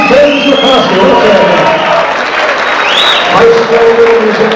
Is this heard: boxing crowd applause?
yes